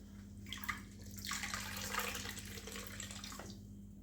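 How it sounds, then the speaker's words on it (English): Wet yarn skeins, freshly dyed with turquoise and bright pink acid dyes, squeezed by hand so the liquid runs and splashes out in a steady watery wash with a few louder surges, close and continuous, no talking. "I'm just going to squeeze out most of the liquid and sort them out in the rinsing"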